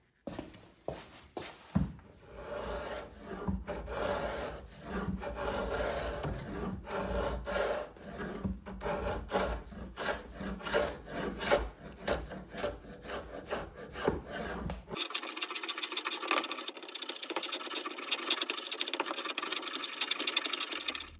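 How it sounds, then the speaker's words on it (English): A draw knife shaves a wooden guitar neck in a series of quick, rasping strokes, close and fairly faint, ending in a steady machine-like whir. "So you can see why I like the draw knife for carving. You can see these nice big ribbons coming off."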